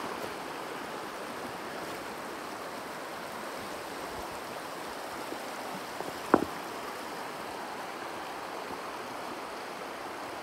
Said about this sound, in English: This creek splits off into three different directions.